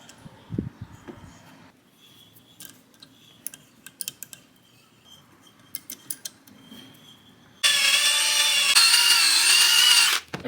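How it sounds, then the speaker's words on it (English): Threads on a Buick Reatta cylinder head are tapped, with scattered quiet ticks and clicks of handling first, then a loud, close power-tool whir that runs steadily for a few seconds before cutting off. "I'm going through and tapping all of the threads"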